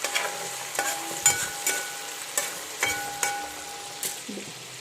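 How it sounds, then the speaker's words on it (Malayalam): Food frying in oil in a large pan (uruli), stirred with a ladle that clanks and scrapes against the metal in irregular strokes over a soft sizzle, near and clear, with no talk. "നല്ല പോലെ വറുത്തെടുക്കണം"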